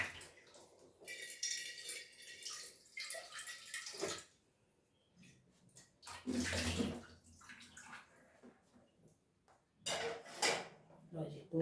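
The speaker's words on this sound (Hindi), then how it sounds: "लो जी दूध का भगोना धो दिया।" Water splashes and runs while a milk pot is washed by hand, with intermittent scrubbing, clanks of metal and bursts of water; someone speaks briefly between the washing sounds.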